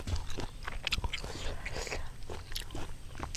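Close, crisp biting and crunching of pickled mango eaten outdoors in a rubber plantation, repeated chewing crunches over a steady background hiss with no talking.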